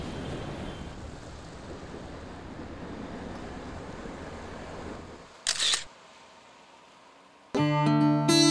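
A single crisp camera shutter click pops out over steady outdoor wind and surf-like noise, after which a tonal hum starts in; no one speaks.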